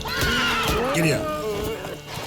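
A horse in The Witcher 3: Wild Hunt lets out a loud, close, wavering neigh with hoof clip-clops mixed in, and a voice speaks over it.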